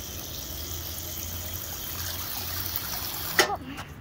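Water poured out for a dog at a dog park, a soft trickling splash under outdoor background noise, rising briefly near the end.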